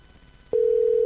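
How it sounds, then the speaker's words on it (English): An outgoing telephone call rings on the line: after a short click, a steady electronic ring tone begins and holds loud and unbroken through the second half, with faint line hiss beforehand. "once you get the number dialed, if I can hear it ringing"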